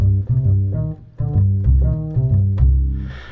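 Ample Sound Bass Upright virtual upright bass in its default instrument mode, playing a short phrase of plucked notes with clear, rhythmic attacks, loud and close with no voices.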